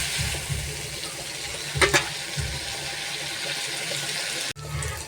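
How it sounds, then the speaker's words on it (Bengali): Chopped tomato and onion fry in a pan with a continuous close sizzle and crackle, broken by soft stirring knocks and scrapes, with no talk. "তো টমেটো আর পেঁয়াজটাকে খুব ভালো করে ভেজে নেব।"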